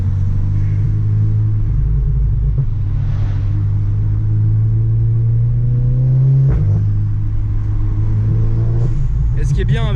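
A roughly 360-horsepower car accelerates hard. Its deep exhaust rumble swells and falls, a few sharp pops and bangs crack out near the end, and voices talk in the cabin throughout.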